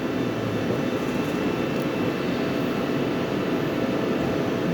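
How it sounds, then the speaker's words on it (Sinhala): A CNC machine running with a steady, fairly loud mechanical hum and broadband whir. The sound stays even throughout, with no distinct start-up and no talking. "මැෂින් එක ඔන් වුණා."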